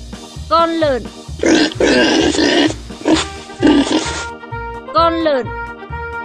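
A pig gives a series of short, deep, burping grunts in quick clusters, close and loud, spaced across a few seconds over a soft, steady backing beat.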